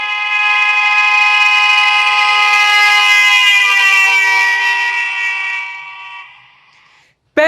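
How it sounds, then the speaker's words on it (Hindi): A loud, sustained vehicle horn blares as the vehicle passes, its steady tone dropping slightly in pitch and fading away into the distance over several seconds. "पहले गाड़ी आई इस तरीके से हॉर्न बजाती हुई आपके पास आई, पिच बहुत हाई हो गई, फिर आपसे दूर चलेगी, फिर से पिच लो होती गई।"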